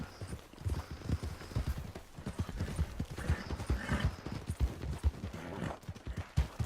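Steady clip-clop of horse hooves in a video game, a rider's mount moving along a night trail with a lantern, the rhythmic footfalls close and continuous while a person talks over them.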